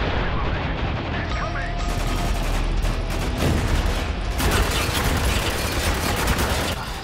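Dense, continuous gunfire from many weapons in the co-op shooter game Spec Ops: The Line, with rapid overlapping bursts and shots that grow heavier midway, loud and close throughout.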